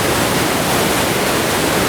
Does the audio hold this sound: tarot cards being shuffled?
no